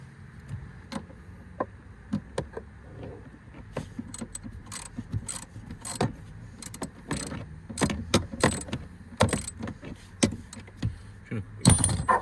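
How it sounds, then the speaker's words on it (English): A deep socket ratchet clicks repeatedly as the handbrake on a VY/VZ Holden Commodore is tightened, giving close, sharp, irregular clicks and metallic taps in quick bursts over a quiet background. "Deep socket just keeps clipping."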